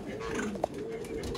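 A collared dove coos at a bird breeding farm, a soft, brief call rising once over steady background noise and the murmur of other birds.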